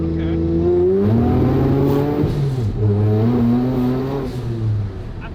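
A rowdy car engine revs up and down in gear as the driver blips the throttle to rev match during shifts, loud and close with rising and falling pitch throughout.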